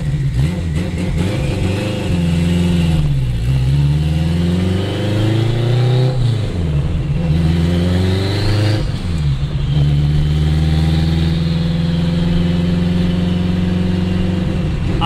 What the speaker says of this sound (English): I'm gonna record some revs for you guys actually.